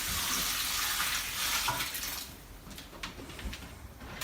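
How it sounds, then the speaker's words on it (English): Water poured from a watering can onto a potted indoor plant in a large home plant collection, a steady close splashing flow that thins and tapers into scattered drips. "I'm just going to come in with some water and give it a good soak."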